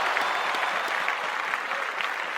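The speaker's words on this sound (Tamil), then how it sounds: "இந்த கரவொலியெல்லாம் பத்தாது, இன்னும் பலத்த ஒரு கைத்தட்டல் கொடுங்க." An audience at the Nambikkai Awards ceremony applauds in a steady, dense wash of clapping from a large crowd, even in level throughout with no speech over it.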